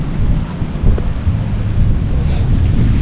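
Strong storm wind during a fishing tournament roars and buffets the microphone in a steady, heavy rumble, with gusty swells throughout and no voices.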